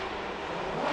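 Robin Ishida's drift car under throttle on the Long Beach Formula Drift course, a continuous roaring exhaust note heard from a distance, steady and slightly rising, with no talk.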